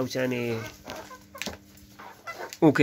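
Several hens, Australorp among other laying and meat breeds, cluck and squawk near the microphone in a farm setting, with someone talking over the birds throughout.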